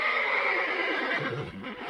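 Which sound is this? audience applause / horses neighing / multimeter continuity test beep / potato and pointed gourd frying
horses neighing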